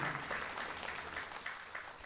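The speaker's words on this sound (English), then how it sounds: "Please give her a round of applause for her courage." Audience applause at a Hiri Moale 50th anniversary sponsors night, a steady wash of many hands clapping at moderate distance, fairly faint, with a low hum underneath and no clear talk.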